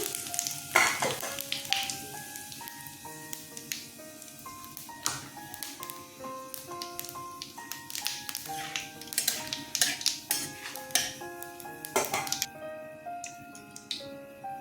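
Bay leaf, dried red chilli and cumin seeds tempering in hot oil for a vegetarian potato and pointed gourd curry, a steady close sizzle with scattered taps and clinks of a spatula against the pan, no voices.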